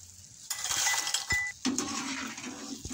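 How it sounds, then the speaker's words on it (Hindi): Fried namak pare being lifted out of hot oil, with metallic clinks and scrapes of a utensil against the pan over a steady light sizzle, close and fairly loud with no talk. "इसको डिश आउट करती हूँ मैं"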